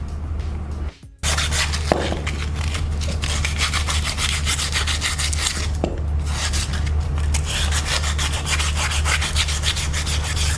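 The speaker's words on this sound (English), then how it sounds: "we're using some sandpaper, fine sandpaper to smoothen the axle" Fine sandpaper rubbed over a car's front wheel axle during a bearing replacement, a loud, close, continuous rasping scrub with a brief pause near the start and two sharp ticks along the way.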